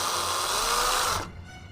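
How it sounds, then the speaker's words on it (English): A power drill whirs steadily while boring holes in the left leg part of an R2-D2 model, then cuts off abruptly near the end, leaving a quiet hum. "we'll drill these holes out"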